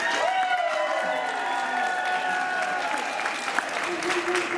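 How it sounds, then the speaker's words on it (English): Applause from an audience fills the space while a voice talks over the clapping. "I want to hear applause from the people that were actually here in 1956"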